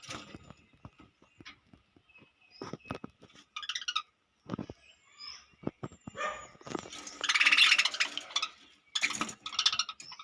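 Budgies in a breeding loft, one of them red-eyed, chirp and squawk in scattered bursts that grow busier and louder toward the end. The calls overlap irregularly, fairly close, with short gaps between.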